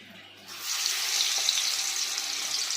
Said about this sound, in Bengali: এদিকে কড়াতে তেল দিয়ে দিয়েছি, তেলটাও গরম হয়ে গেছে। এবার আমি তেলের উপরে বড়া আকারে দিয়ে দিচ্ছি।